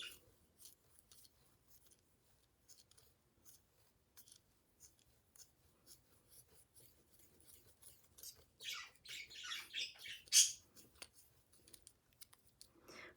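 Scissors snipping through yarn wound around a pompom maker, a long run of quick, crisp close cuts in irregular bursts, growing louder and denser toward the end, no voices.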